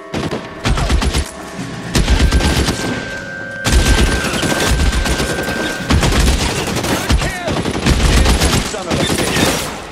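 Heavy gunfire in L.A. Noire: rapid bursts and volleys of shots ring out in loud, near-continuous waves, with short pauses between them.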